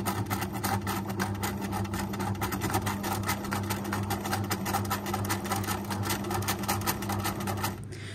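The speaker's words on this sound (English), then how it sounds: "I'm just going to put my foot onto the foot controller and the machine's going to start sewing" A sewing machine runs steadily through free-motion quilting, with a fast, even needle rhythm for about eight seconds before it stops. The sound is close and loud, with no talking.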